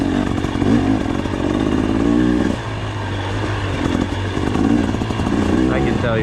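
A 2024 KTM 300 XCW dirt bike engine riding single track at Hart Prairie, a loud, close two-stroke buzz rising and falling with throttle changes, while a rider talks over it.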